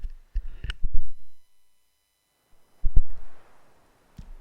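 A person coughs in two short, harsh bursts separated by a pause of near silence, close to the microphone.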